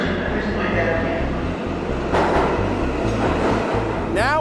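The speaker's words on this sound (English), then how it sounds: "The West Coast 7 train approaching Hunters Point Avenue." A New York City 7 subway train pulls into Hunters Point Avenue station, a steady loud rumble with rhythmic wheel clatter over the rails and a rising metallic squeal near the end, heard under talk.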